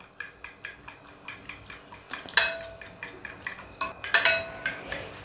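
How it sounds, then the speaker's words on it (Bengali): A fork beats eggs with salt in a bowl, making quick, steady metallic clinks and taps in a regular rhythm, fairly faint and close, with one or two sharper clanks. "এবারে সব কিছু একসাথে একটা কাঁটা চামচের সাহায্যে খুব ভালোভাবে বিট করে নিব।"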